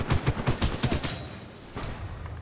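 Rapid-fire bursts from the Alternator gun in a multiplayer shooter game, a tight string of loud close shots that stutters briefly and then resumes as a shorter volley.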